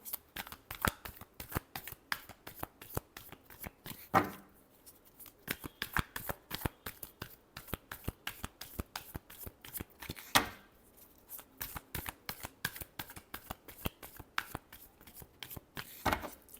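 Tarot cards are shuffled in a long run of quick crisp riffling clicks, fairly quiet and close, with a couple of brief pauses between bursts.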